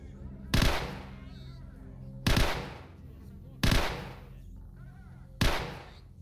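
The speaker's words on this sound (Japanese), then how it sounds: "あ、銃声する。" Four loud, sharp gunshots in S.T.A.L.K.E.R.: Shadow of Chernobyl ring out at uneven intervals, each with a short echoing decay, over a low steady game background.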